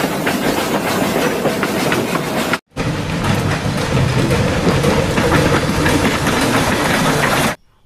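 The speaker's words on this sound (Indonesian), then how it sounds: "Ini adalah kereta lokomotif atau kereta steam." A toy steam locomotive train runs with a steady, loud mechanical clatter and rattling clickety-clack, cutting out briefly partway through and then continuing until it stops near the end.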